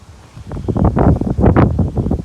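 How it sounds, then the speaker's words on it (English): Strong gusts buffet an outdoor microphone in irregular, rumbling bursts, loud and close, rising and falling over a couple of seconds. "Whew, windy."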